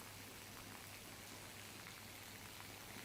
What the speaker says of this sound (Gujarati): મેંદરડા પંથકમાં ધોધમાર વરસાદ છે।